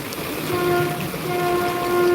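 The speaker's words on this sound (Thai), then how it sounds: "รถไฟมาแล้ว นั่นค่ะ รถไฟมาแล้ว" A train rumbles past with a steady mechanical roar and a faint sustained horn-like tone, moderately distant and continuous.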